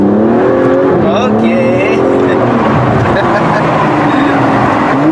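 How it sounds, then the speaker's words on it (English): The 533 kW V12 exhaust of an Aston Martin DB11 roars loud and close as the car accelerates hard onboard, its pitch climbing through gear changes, with a brief spoken word near the start. "So let's hear that exhaust note."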